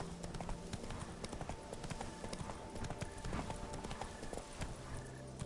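Horse hooves clip-clop in a steady galloping rhythm in a video game, with the horse Roach running hard over a busy bed of game music and ambience, plus an occasional faint whinny.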